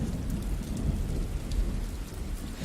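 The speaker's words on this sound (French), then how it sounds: "Il pleut de plus en plus fort." Heavy rain pours steadily while deep thunder rumbles continuously underneath, a dense storm with no voices.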